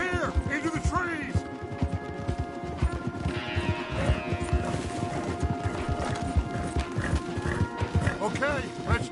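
Horses galloping in the Red Dead Redemption 2 game, with a dense, continuous clip-clop of hooves and occasional whinnies running throughout, under a low hum and overlapping talk between riders.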